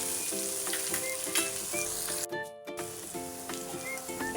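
Okra sizzles steadily in hot oil in a pan for a tangy okra curry, a continuous close frying crackle with a brief dip partway through and no voices.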